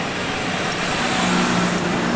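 Busy Saturday-night road traffic beside the Colosseum in Rome, a continuous wash of passing cars and engine hum at moderate distance, with no talk over it.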